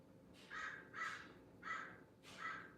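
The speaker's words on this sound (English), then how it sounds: "Can you hear the crows?" Four harsh crow caws in an uneven rhythm, moderately loud and a little distant, over a low steady outdoor background hum.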